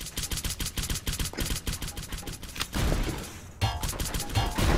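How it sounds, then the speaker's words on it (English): A banana bomb thrown and exploding in a multiplayer video game, amid loud continuous rapid-fire gunfire and crashing blasts, dense and close. "I'm gonna throw a banana bomb in there"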